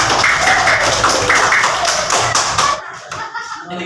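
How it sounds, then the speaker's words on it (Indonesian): A primary school class clapping hands during an Islamic religious education lesson, a loud rhythmic burst of claps with a voice over it, ending abruptly and followed by quieter sounds. "tepuk tangan"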